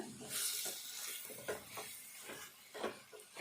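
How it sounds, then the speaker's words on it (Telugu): Cabbage and tomato curry with green chillies and chilli powder is stirred in a pan on a low flame. A steady close sizzle runs throughout, broken by a few soft spoon scrapes through the vegetables. "ఇదంతా కలుపుకోవాలి. కలుపుకొని మంచిగా దగ్గర ఫ్రై కావాలి."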